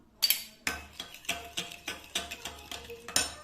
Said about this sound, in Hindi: इसमें फेंट लेना है इसको